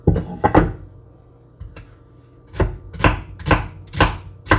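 An onion chopped on a board, a couple of quick knocks, a pause, then five evenly spaced sharp chops close by.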